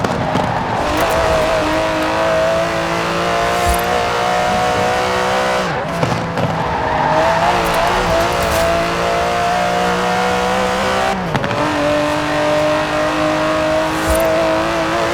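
An Aston Martin DB11 with a 5.2-litre twin-turbo V12 roars in Forza Horizon 4, holding a loud, steady engine drone with rising revs, a couple of sharp gear-shift breaks and light tire noise, no talk.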